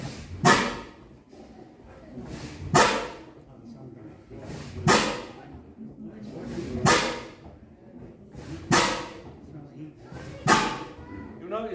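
A Mirrlees diesel engine at the Anson museum starting up, with about six heavy, evenly spaced exhaust beats roughly two seconds apart.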